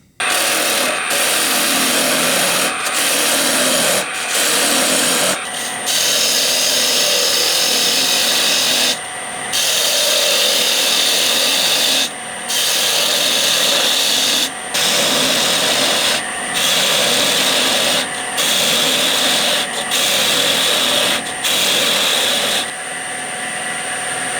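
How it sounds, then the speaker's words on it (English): A wood lathe spins steadily while a spindle gouge cuts and scrapes a turning flower bud vase, with brief pauses between passes and no talking. "I'm just going to use my spindle gouge to turn and shape"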